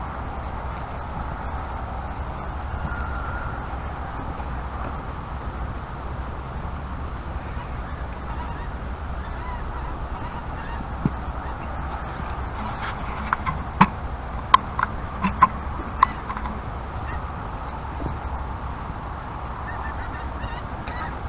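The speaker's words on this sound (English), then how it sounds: "there's a great big flock of Canada geese going by" A large flock of Canada geese passes overhead near a river bank at night, their honking a continuous distant chorus over steady wind and water noise, with a few faint ticks partway through.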